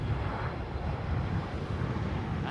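GE engines on an airliner arriving at Heathrow whir as a steady, broad rumble with low-frequency drone and some wind buffeting, continuous and fairly close throughout.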